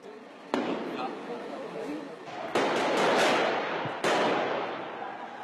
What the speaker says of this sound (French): la police lance des grenades